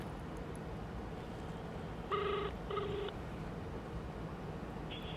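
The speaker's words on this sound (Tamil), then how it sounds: "இப்போ நான் கடவுள் படத்தோட வில்லன் ராஜேந்திரன் அவருக்கு ஃபோன் பண்ணிட்டு இருக்காரு" A phone call being placed: a short burst of dialing tones, two steady beeps in quick succession, then a faint higher tone, heard through a constant hiss of background noise.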